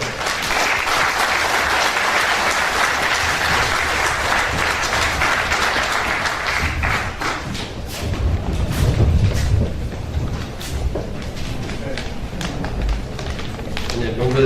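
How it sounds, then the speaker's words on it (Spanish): Warm audience applause at an anniversary ceremony of the Iranian Islamic Revolution, sustained clapping from a crowd that thins after several seconds, with a voice speaking over and after it. "Un caluroso aplauso."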